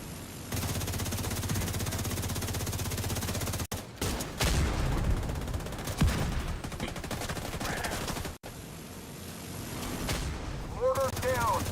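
Gunfire in The Division 2 during an Iron Horse raid: sustained heavy automatic fire and blasts fill the clip, broken by brief gaps, while players call out over it.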